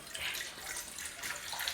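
Water is poured into a container while a homemade livestock deworming remedy with sugar is prepared. It makes a soft, continuous splashing trickle, quiet and close, with no voices.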